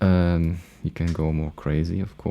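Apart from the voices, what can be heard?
No distinct noise like a dog, phone or traffic.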